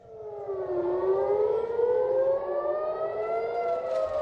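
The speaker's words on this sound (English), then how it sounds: "air raid sirens blared across the border town of Nahariya" An air raid siren wails steadily in the border town of Nahariya, northern Israel, during a rocket attack, its tone sliding down and then slowly rising again, heard from a distance with no voices.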